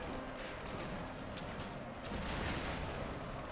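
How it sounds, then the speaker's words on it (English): Volleys of arrows loosed by archers in a strategy video game, a dense, steady rattling wash of rapid shots running without a break and fairly loud throughout. "That definitely sounded like archers were firing."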